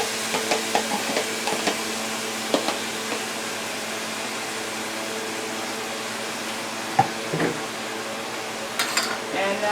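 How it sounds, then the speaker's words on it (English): Chopped tomatoes are stirred into a sausage pasta sauce in a pot, with soft scraping and occasional clinks of the utensil against the pan over a steady background hum, close and moderately quiet. "So I'm going to mix that in with the sauce."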